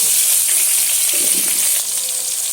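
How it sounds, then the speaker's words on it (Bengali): Cauliflower florets fry in oil in a pan already used for frying rohu fish, producing a loud, steady, hissing sizzle that fills the whole clip, with a few faint utensil movements beneath and no talking. "একই তেলের মধ্যে আবারও ফুলকপিগুলো দিয়ে সুন্দর করে ফুলকপিগুলো একটু লাল লাল করে ভেজে নেব।"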